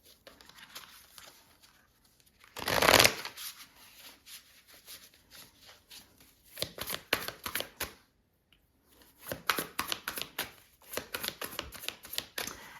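Tarot cards shuffled and handled for a three-card spread, a dense burst of riffling followed by scattered crisp flicks and light taps of card stock on a surface, with a short pause before more handling.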